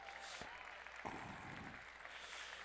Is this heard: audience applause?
yes